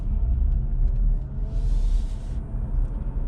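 Chevrolet Bolt EV electric car cruising on a highway on a cold day, a low, steady rumble of road and wind noise inside the cabin with no talk.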